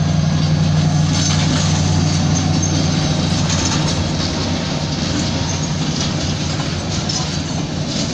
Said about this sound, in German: Hier seht ihr einen kleinen Güterzug auf Gleis 8, den Güterdurchfahrgleis gezogen von einer BR 294.